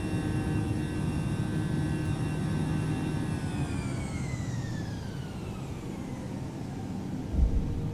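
An Airbus A320neo climbing out after takeoff in Microsoft Flight Simulator, a steady jet engine roar with a whining tone that slowly falls in pitch, sustained and fairly loud, with no talk.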